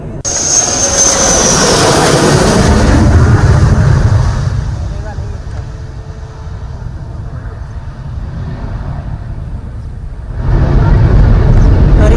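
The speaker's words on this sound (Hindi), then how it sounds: "इस एयर स्ट्रिप पर आज फाइटर जेट ने टच डाउन किया" Fighter jet touching down on a national highway airstrip near the border in Barmer, Rajasthan: a loud broadband jet roar that fades to a lower rumble mid-clip, then swells strongly again, with voices faintly present.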